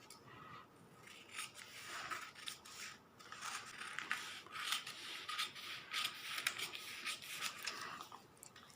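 Scissors snip through a paper pattern cut out ahead of Aari embroidery, a faint run of irregular crisp snips and rustles close by, with no voices.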